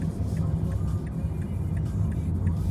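A government bus in New Zealand drives past, its low broadband engine rumble steady and fairly loud throughout, with faint speech-like murmurs over it.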